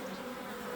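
Honeybees cluster around a caged queen, their wings making a faint, even, continuous hum close by.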